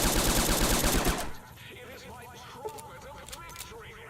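Turret gunfire in Fallout: New Vegas, Old World Blues: a loud, dense burst of rapid automatic shots rattles for just over a second, then cuts off abruptly, leaving someone talking over quiet game ambience.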